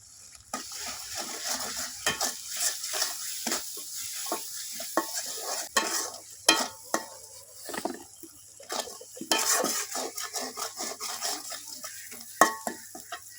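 Onion, chili and ginger-garlic paste fry in a pan, sizzling steadily beneath frequent sharp scrapes and clanks of a spatula stirring against the metal, close and uneven in rhythm.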